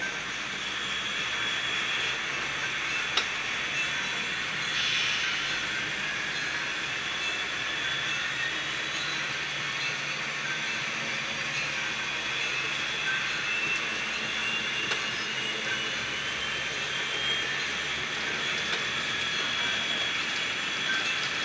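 Model trains run around a layout with a steady, continuous whirring hum of small motors, even and unbroken throughout, close by and with no voices.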